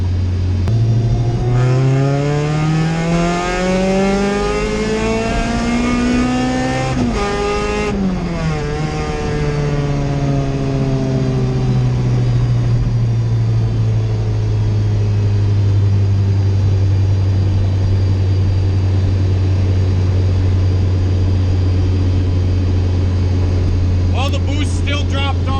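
A car fitted with a Jackson Racing supercharger makes a full-throttle pull, the engine note climbing steadily through the revs, briefly dropping at a shift, then droning on at high load in a loud, sustained roar.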